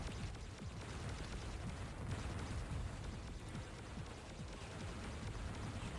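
Harmless laser fire traded between ships in a Descent multiplayer match on the Observatory map, a dense, steady wash of rumbling booms and small crackling bursts that runs without pause.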